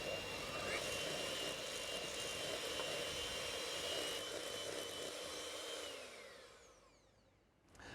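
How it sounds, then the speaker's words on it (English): An electric whisk creams butter and sugar for an Elizabeth sponge cake, giving a steady, close whirring drone that runs for several seconds before winding down near the end, with no talking. "I'm going to use an electric whisk to save a little bit of time today."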